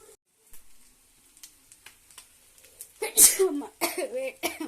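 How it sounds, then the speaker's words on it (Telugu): A few faint coughs early on, then louder bursts of sneezing and coughing near the end, close by, with quiet gaps between. "తుమ్ములు దగ్గులు వస్తున్నాయండి చూడండి"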